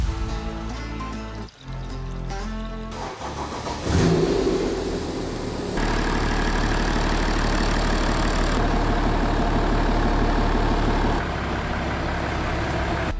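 A Nissan Patrol 4WD converted with a BMW engine runs steadily at idle, close and continuous, with a brief rev and a few shifts in engine tone early on before settling into an even hum.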